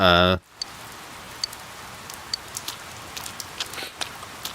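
Steady rain falls in the video game Persona 4 Golden, a soft continuous patter with scattered light drop ticks, following a brief loud burst of other game sound at the start.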